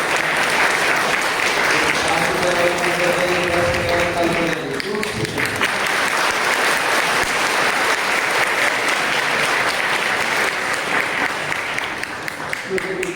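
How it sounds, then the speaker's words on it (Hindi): A church congregation at a women's conference at Ward Memorial Baptist Church applauds loudly and steadily to thank God, a dense, sustained wash of clapping lasting throughout with voices mixed in. "एक जोरदार ताली बजाकर हम प्रभु को धन्यवाद दें"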